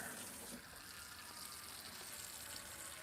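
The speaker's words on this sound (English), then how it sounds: "All right, let me get some water in here" Tap water runs steadily into a cooking pot, a faint, even hiss and splash with no talk.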